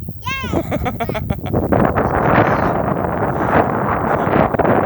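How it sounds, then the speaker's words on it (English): Gusty wind buffets the microphone with a steady rumble at an allotment while people talk nearby. "It's a bit windy, mind you don't get blown off."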